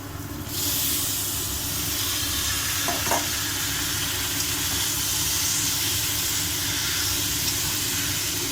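Tomatoes with ginger garlic paste cook in a hot pan, a loud, continuous hissing sizzle that starts abruptly and holds steady, with a faint clink of stirring partway through and no talk.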